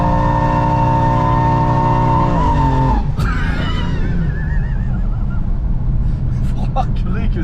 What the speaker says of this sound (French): si vous appuyez un peu sur la pédale, elle patine quand même.